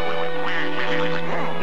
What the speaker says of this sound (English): here are Goosey Poosey and Ducky Lucky and all the other gay ducks